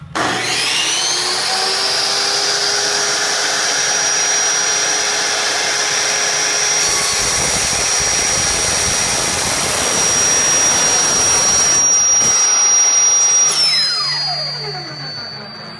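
A power saw runs steadily and loudly, cutting through a metal piece clamped in place in an amateur welding workshop, with a high whine that shifts and winds down near the end.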